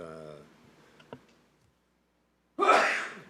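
A single loud, breathy sneeze bursts out near the end after a brief silence, preceded by faint voices and a couple of small clicks.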